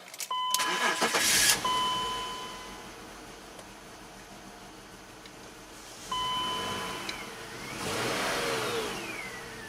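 A 2006 BMW X5 with a random misfire starts and runs near the listener, a steady engine hum rising and falling in level with brief whines and a whooshing surge near the end, and no talking.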